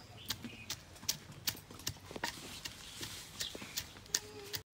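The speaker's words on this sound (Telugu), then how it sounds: "నూరుతున్నా" Coriander chutney ingredients, with onion, cumin and peanuts, ground by hand in a stone mortar in a village kitchen, giving repeated sharp knocking strikes in an uneven rhythm, close and fairly quiet, with no talk.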